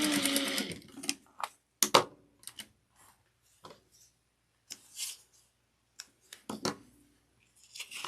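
Short stop-start bursts from a sewing machine back stitching a small fabric slip pocket, separated by quiet gaps and scattered light clicks, with a longer run at the very start.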